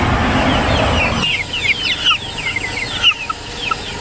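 Backyard chickens clucking near a garden, a busy run of short chirpy clucks and calls from several birds, fairly close, with a brief rustling noise at the start and no talking.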